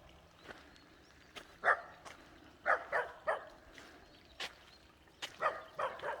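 A dog barks repeatedly at a moderate distance, sharp single and double barks spaced irregularly over quiet outdoor background.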